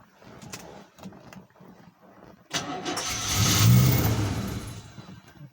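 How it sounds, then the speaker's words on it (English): A 1978 Rolls-Royce Silver Shadow II cranks briefly, then catches and starts, settling into a loud, steady idle that swells midway, heard up close with no talking. "I'm just going to get the keys out, start her up."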